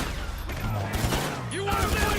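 Rapid gunfire strikes a Kuruma armored car during a GTA 5 Online mission, a dense fusillade of bursts continuing steadily under game noise and a voice talking.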